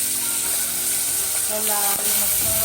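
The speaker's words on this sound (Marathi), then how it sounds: "आता आपण मस्त लालसर झाले मिरची लसूण ते आपण कढीपत्ता टाकतोय" Curry leaves hit hot oil already reddened with chillies and garlic for a dal tempering, giving a steady, loud sizzle and crackle throughout with a brief sharper pop near the middle.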